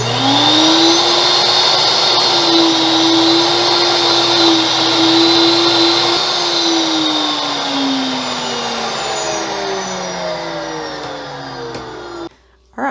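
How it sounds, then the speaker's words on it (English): Nutrimill Impact grain mill running: a loud, close, continuous motor whine with a steady high-pitched grinding roar that sags slightly in pitch toward the end before stopping. "there's how loud the Nutrimill Impact is"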